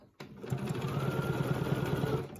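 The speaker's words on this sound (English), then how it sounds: "I'm just gonna stitch in the ditch" Sewing machine stitching a quilt in the ditch along a gridded orange peel design, a steady close mechanical hum with rapid even needle thumps running for about two seconds.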